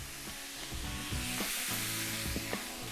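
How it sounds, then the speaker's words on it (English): A pan of gyros meat sizzles loudly after vinegar is added for deglazing, a bright crackling hiss with some stirring scrapes. "I will deglaze my pan with some lovely vinegar."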